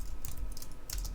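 Quick keystrokes clatter on a computer keyboard in short bursts, a handful of light taps close by over a quiet background.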